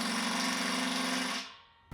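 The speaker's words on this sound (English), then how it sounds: "I'm gonna mark and then drill each hole through the legs using a masonry bit." A power drill with a masonry bit bores steadily through a metal leg for a DIY Solo-style stove build, running as a loud, continuous whine for about a second and a half before spinning down to quiet.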